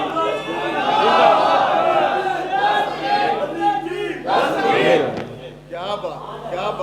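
A crowd at an Urs gathering for a Sufi saint chants religious slogans in loud, surging unison, with voices swelling and falling in repeated waves and a brief lull near the end.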